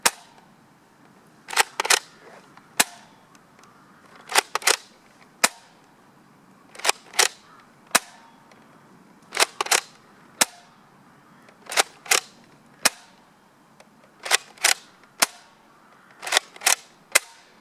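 A dart gun firing repeatedly, sharp snapping shots in pairs and singles spaced a second or two apart, close and loud against a quiet background.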